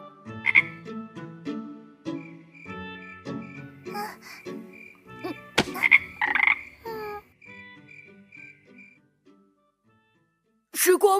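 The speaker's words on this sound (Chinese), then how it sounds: "是小青蛙。" A cartoon frog croaks in the animated series Programming Cat: a run of loud, close, throaty croaks in an uneven rhythm, backed by bright synthetic tones, then a short pause and a final burst.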